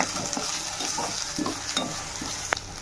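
Masala with rock salt, turmeric and green chillies frying in a pan for tamarind fish curry, a steady close hiss with soft stirring clicks and scrapes scattered throughout.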